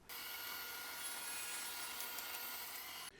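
A table saw cuts through a wooden piece being shaped into a hammer handle, giving a steady, loud whirring rasp for about three seconds that then cuts off.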